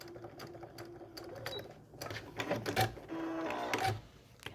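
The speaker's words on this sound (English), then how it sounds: "I'm sewing just to the right of that line." A sewing machine stitches a cat quilt block, its motor whirring in several bursts of varying speed with short pauses between runs, close and moderately loud with no talking.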